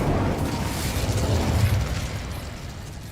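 A fiery Incendio spell blast from Hogwarts Legacy, a dense roaring burst with low rumble that holds steady for about three seconds before easing slightly, with no voices.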